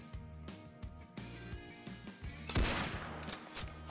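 Rifle shots while hunting gazelle on the Africa map of the video game Project Hunt, several sharp reports spread over a few seconds, the loudest near the end, heard over a low, steady game ambience.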